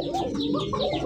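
A pair of milk-white Bombay pigeons coo in a continuous, close, moderately loud stream of low throaty calls over a busy pigeon-market background.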